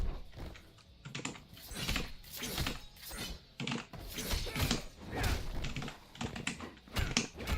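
Rapid, uneven clatter of a computer keyboard used to play Mortal Kombat X, with hard key presses in dense bursts and occasional heavier thumps, fairly close and loud.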